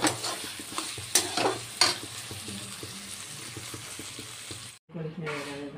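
A cooked vegetarian dish of lentil dumplings (dal bori) and potatoes being scraped and transferred onto a serving plate: close utensil scrapes and light clinks over a faint sizzle, with someone speaking at times.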